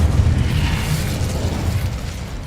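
Incendio fire spell blasting in Hogwarts Legacy, a loud, close whooshing burst of flame with a booming low rumble that holds steady for a couple of seconds before easing off.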